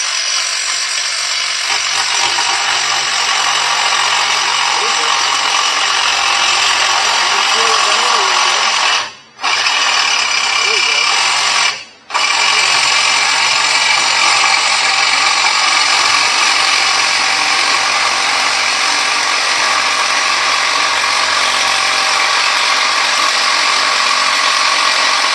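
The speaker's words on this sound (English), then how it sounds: "with a reciprocating saw, you can cut tons of stuff" A reciprocating saw cuts through wood while building an overland camper, a loud, steady buzzing rasp running nearly unbroken, stopping for two brief pauses partway through before carrying on.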